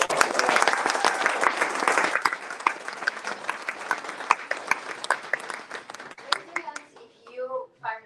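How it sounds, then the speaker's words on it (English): A tech-week demo night crowd in London applauds a presenter, dense clapping filling the room for about six seconds before thinning into scattered claps as a voice begins speaking near the end. "And a big round of applause for Fiona."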